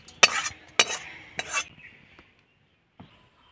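Cooked potato and carrot filling for a semolina snack is scraped from a pan onto a plate in three quick clattering bursts of metal spoon on cookware, then a faint single clink after a pause.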